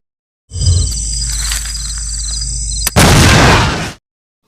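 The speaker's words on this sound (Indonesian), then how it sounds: "Ia telah menukar uang dengan bom yang kemudian diledakkannya." A bomb blast from an Indian action film, a sustained roaring rumble with high whine lasting about two and a half seconds, then a second louder, harsher burst of debris-like noise before cutting off.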